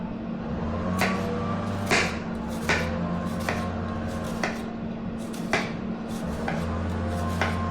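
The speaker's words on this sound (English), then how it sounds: "Peel off the first layer of the onion, wash it, and slice." Knife chopping an onion thinly on a board, with about eight evenly spaced crisp cuts close up over a steady low background hum.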